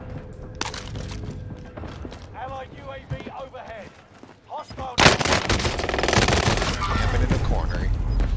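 Bursts of PPSh submachine gun fire in a first-person shooter video game, loud and dense rapid shots in the second half, with players talking over the gameplay.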